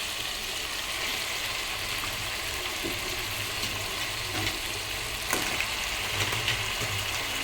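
Crabs tossed into a spiced masala for crab curry sizzle and fry steadily in a pan, a continuous close hiss with occasional faint stirring scrapes and clicks, no talking.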